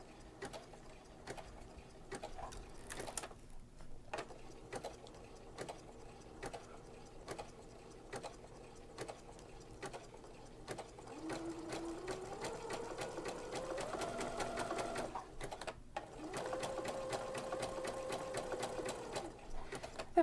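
A sewing machine fitted with a pearls and sequins foot stitches steadily around a curve in fabric, its fast, even mechanical whir close and continuous, briefly pausing and then running on with a slightly higher, busier tone.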